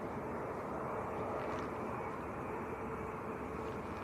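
IndiGo airliner arriving at Manchester Airport after a long flight from Delhi, a steady distant roar of jet engines held at a constant level throughout.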